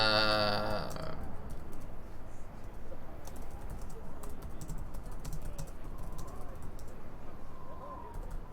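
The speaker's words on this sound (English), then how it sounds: "I was just typing." Rapid, steady clicking of keys on a computer keyboard runs throughout, close and fairly soft, with a brief louder tonal noise at the very start.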